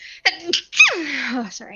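A sneeze bursts out in the middle of a tabletop role-playing session, a sharp near gasp-and-release, with people talking just before and after it.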